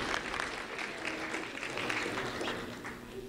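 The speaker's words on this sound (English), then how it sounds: "Round of applause for Tortuga Preserve Elementary School." Audience applause for Tortuga Preserve Elementary School at a recognition event, a steady dense wash of clapping from a crowd filling the room, holding at an even level throughout with no speech over it.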